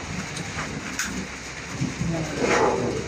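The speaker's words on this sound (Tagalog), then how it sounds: "So kailangan i-stop muna kasi ulan na po." Steady rain pouring on a construction site in Dolores, Abra, with low rolls of thunder rumbling underneath, a continuous hiss at moderate volume and no talking.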